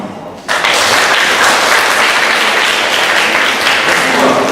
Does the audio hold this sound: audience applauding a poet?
yes